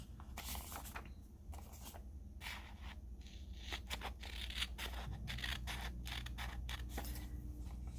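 Scissors cut out fabric for a fur collar and poncho, with soft, quiet, close snips and scraping blade strokes repeating in an uneven rhythm.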